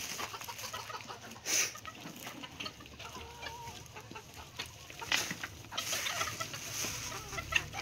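Chickens on a farm cluck and squawk at close range as they are fed, with scattered calls and one louder squawk over steady ambient background noise and no talking.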